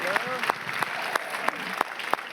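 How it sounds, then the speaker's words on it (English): A crowd at a Berlin film premiere on the red carpet applauds in a steady wash of clapping, with sharp camera-like clicks at regular intervals and voices talking over it. "Please give a huge applause to Adil and Bilall."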